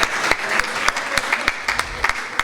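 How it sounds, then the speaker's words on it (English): A crowd at a community dinner dance breaks into warm applause, a dense, close wash of clapping with a few sharper individual claps standing out. "can you give a big round of applause to the people who are serving the food and cooking the food?"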